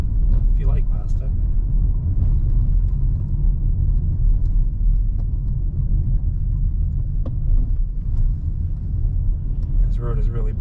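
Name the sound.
car driving over a bumpy road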